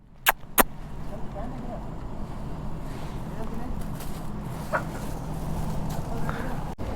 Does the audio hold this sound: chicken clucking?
yes